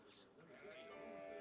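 Sheep in Age of Empires IV give a short, mid-pitched bleat early on, followed by wavering game tones over steady ambience, with a voice talking over the sounds.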